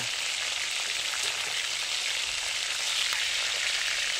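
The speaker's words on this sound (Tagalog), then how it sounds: "after natin ma-seared yung both sides ng chicken" Chicken teriyaki sears in a hot pan, a dense, even sizzle holding steady and close throughout with no talking.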